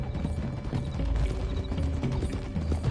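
Horse hooves clip-clopping along a rocky track in Red Dead, a steady close rhythm of hoofbeats with a faint creak of tack, no voices.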